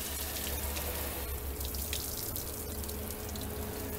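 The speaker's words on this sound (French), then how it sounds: "on va pouvoir rincer à l'eau claire" Clean tap water runs steadily while rinsing a Holophane TR 2S lamp hood during restoration, a continuous close splashing rush with a low hum underneath.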